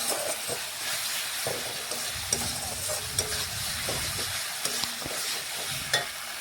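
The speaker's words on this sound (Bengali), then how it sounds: "এখন আমি মটনটাও এর মধ্যে ঢেলে দেব।" Mutton goes into a frying masala with tomato and is stirred, a steady close sizzle with soft scraping stirs and occasional clinks of a utensil against the pan.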